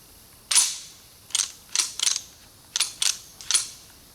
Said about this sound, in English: Let me go ahead and get that mag out of there.